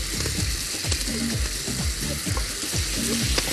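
Potatoes and carrots fry loudly in a pan with a continuous close sizzle, while a utensil scrapes and stirs in quick, repeated strokes; faint voices may sit underneath.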